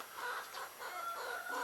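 Chickens in a backyard veggie patch cluck softly at a distance, several short, throaty calls in quick succession over quiet ambient air, no speech.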